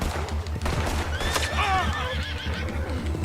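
A horse whinnies loudly amid a busy game soundscape with hoof clip-clops and a steady low rumble, the neigh rising and falling clearly over the din.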